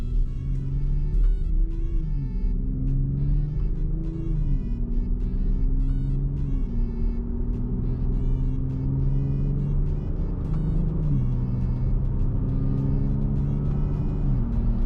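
A Jeep Grand Cherokee with paddle shifters drives and accelerates from inside the cabin, engine pitch rising through several gear changes with audible shift steps, a steady moderate rumble with no talk.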